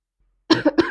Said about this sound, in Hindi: मुझे बहुत ज्यादा खांसी हो रही है